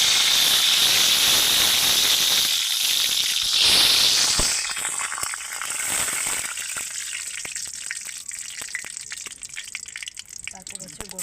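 Three torn bay leaves drop into hot oil at the start of a pork curry, giving a loud close hiss and sizzle that gradually settles into a softer crackle with scattered pops.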